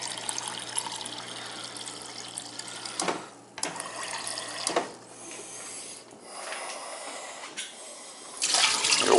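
Water hisses and gushes from a pipe as a summer home's plumbing is blown out for winter, a steady rushing stream broken by abrupt sputters and bursts that grow louder near the end.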